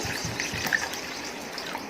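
Water trickles and pours into a pot of washed masoor dal and rice. The soft, continuous flow has a small splash partway through, heard close up with no one talking.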